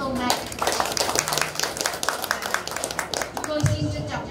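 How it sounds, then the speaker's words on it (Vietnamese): Guests at a wedding ceremony clap together, a loose, uneven burst of many hands close by, with some voices murmuring underneath. "một tràng vỗ tay để hưởng ứng lời chúc mừng của hôm nay"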